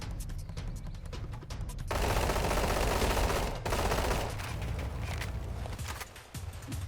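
Rapid automatic gunfire in Roblox bursts out in a dense, sustained volley, then quieter sporadic shots continue behind it.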